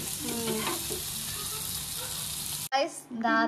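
Fish frying in hot oil, a steady loud sizzle that cuts off abruptly near the end, followed by a brief burst of speech.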